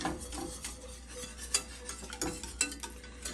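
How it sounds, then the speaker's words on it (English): A whisk stirs milk into a sauce in a pan, giving soft, continuous scraping and swishing with small clicks against the pan, quiet and close. "make sure you get all around when you're whisking"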